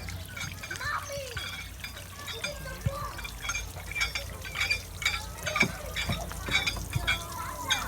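A small children's water-spinning toy cranked in water gives a continuous churning, splashing swirl at moderate volume, with faint speech in the background.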